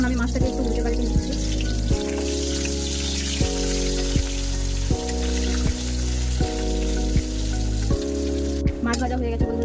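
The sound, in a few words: rohu fish being flipped while frying in oil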